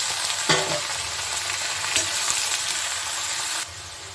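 Pointed gourd drops into a pan of frying onions, setting off a steady sizzle with a couple of sharp clattering stirs before the frying noise drops slightly at the end.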